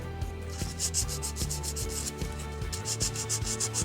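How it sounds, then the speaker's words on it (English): A lightsaber hilt being sanded by hand with 400 grit sandpaper for a weathered finish: close, quiet, rhythmic back-and-forth rubbing strokes in a steady repeating pattern, with no talk. "let's give this a little bit of a sanding while we're here"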